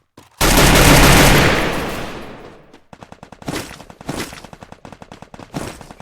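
Gunfire in a Free Fire video game firefight: a big blast that rumbles and fades over two seconds, then rapid bursts of automatic shots in quick, rhythmic volleys, loud and close.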